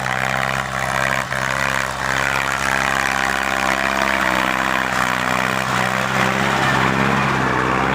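A heavy tractor engine runs steadily with a droning, rattling hum, loud and close, holding a constant pace throughout in a sticky-soiled rice field, without any voices.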